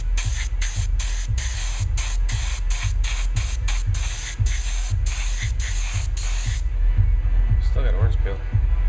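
Airbrush or spray can hissing in repeated short bursts while painting an HO scale SSBTC Express model train, loud and close, then stopping near the end with faint handling sounds and a low background hum.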